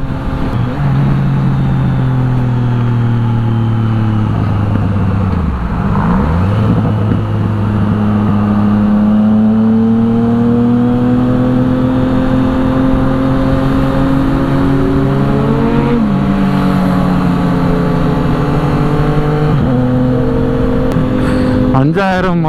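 A loud Triumph Trident motorcycle engine roars and revs steadily, rising and falling in pitch as it accelerates through gears on a ride, with a voice talking over the engine noise.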